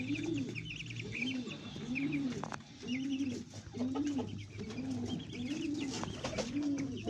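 Doves coo in a steady, repeating rhythm close by, with faint chirps of other birds and a continuous background hum.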